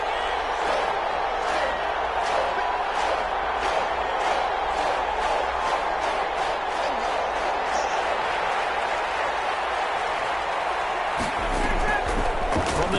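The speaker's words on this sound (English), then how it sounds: "the crowd getting into it as we come up on a big third down" A football stadium crowd roars steadily through a big third-down play, a loud, dense wall of cheering and noise that builds at the end, with a commentator's voice running over it.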